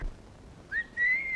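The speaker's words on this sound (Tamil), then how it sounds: "எத்தனை தடவை சொல்லியிருக்கேன், விசில் அடிக்காதே விசில் அடிக்காதேன்னு" A person whistles a clear rising and sliding tune, starting after a short quiet stretch and holding a long high note, fairly close and alone without talk, in a Tamil film comedy scene.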